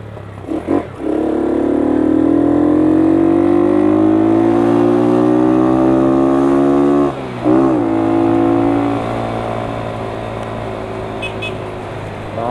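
A motorcycle engine drones and rises in pitch as it accelerates on a wet road in the rain, then drops and revs again, with a wet hiss of spray underneath.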